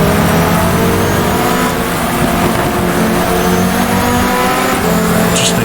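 A race car engine in the GTR2 racing game roars continuously at high revs, loud and dense with shifting pitch while racing against Viper and Porsche cars, with no talking.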